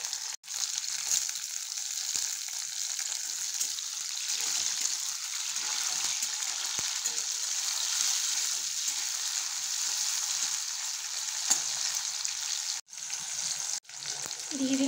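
Two small tomatoes with green chili sizzle and fry steadily in a pan for a Bengali eggplant and mutton dish, a continuous bright hiss with a few soft stirring knocks near the end.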